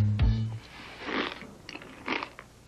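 Kellogg's Frosted Bran cereal crunches in a few close, bursty chews with short pauses between them, following a brief low thump at the start.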